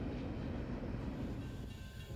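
A freight train rolling along the S-Line toward Port Manatee, a steady continuous low rumble of cars on rails, fairly close and even throughout with no voices.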